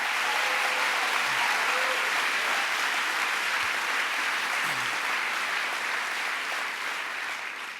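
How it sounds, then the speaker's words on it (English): A large audience applauds Vice President Gore at a governor's announcement event, with dense, steady applause that fills the whole stretch and fades slightly at the end. "Let's give him a round of applause."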